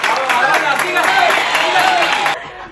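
A crowd claps in a steady dense patter for a couple of seconds, with voices mixed in, before it stops abruptly.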